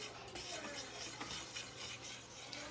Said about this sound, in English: I'm gonna take my whisk.